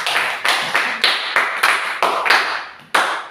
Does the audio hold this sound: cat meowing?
no